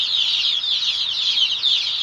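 Chicks peeping and cheeping continuously in a high-pitched chorus, a steady busy twittering with no pauses and no talk over it.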